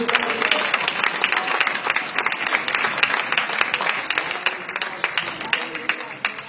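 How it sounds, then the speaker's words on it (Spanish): A church congregation at a Barcelona service breaks into loud, sustained applause, dense overlapping clapping from many hands that holds steady throughout and fades slightly at the end. "¿Cuántos aplaudimos el nombre del Señor en esta mañana?"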